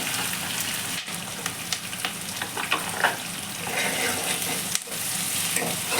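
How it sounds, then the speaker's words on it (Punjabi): Sliced onions and green chilies frying in a pan for spicy okra curry, a dense continuous loud sizzle with stirring clatter up close, and a faint voice partly underneath. "ਦੋ ਮਿੰਟ ਆਪਾਂ ਹਰੀ ਮਿਰਚ ਪਾ ਕੇ ਪਿਆਜ਼ਾਂ ਨੂੰ ਹੋਰ ਭੁੰਨਾਂਗੇ"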